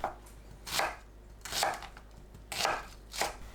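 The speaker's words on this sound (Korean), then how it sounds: "양파를 애호박과 비슷한 크기로 썰어줍니다." Knife chopping an onion on a cutting board while preparing doenjang stew: four separate thuds at an even, unhurried pace, close and clear, with no talking.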